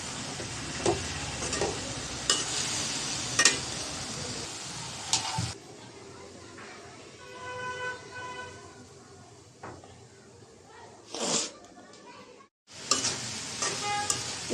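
Water spinach (kalmi shak) is stirred as it fries in a pan, with a soft sizzle under scraping and clattering spatula strokes, a pause with a faint hum, then more bursts of stirring.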